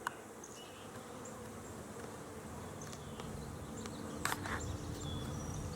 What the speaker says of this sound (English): I'm seeing a freaking big ass swarm.